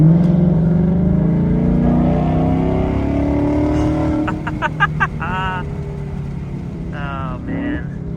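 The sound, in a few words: Ford Mustang car driving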